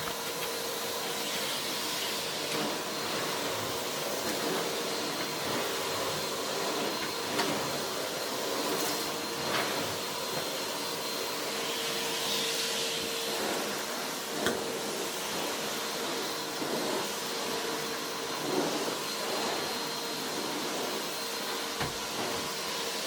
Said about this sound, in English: you just kind of go over the carpet with your vacuum cleaner